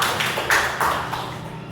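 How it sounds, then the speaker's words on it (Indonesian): An audience claps for a speaker at a school teachers' gathering, a brief, close burst of hand claps with a couple of sharper slaps standing out. "Kita beri tepuk tangan dulu sama Pak Dado"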